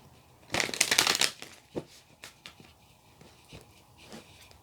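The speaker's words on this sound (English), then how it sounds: "Let's get some tarot cards out for you." Tarot cards riffle and shuffle close by, a quick dense flurry of papery snaps at first, then scattered soft taps and slides as the deck settles, with no voices.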